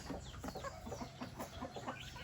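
Several chickens cluck in quick, repeated bursts nearby over a constant hiss of outdoor background noise.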